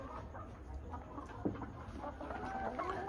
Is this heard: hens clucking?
yes